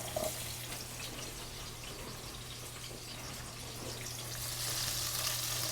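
Garlic fries in a pan for pesto pasta with chicken, a soft steady sizzle close by that grows a little louder near the end, with no one speaking.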